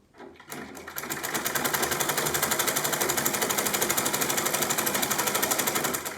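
A sewing machine runs steadily, stitching down a folded sleeve hem, a fast even mechanical rattle close by that starts after a brief pause and continues without break.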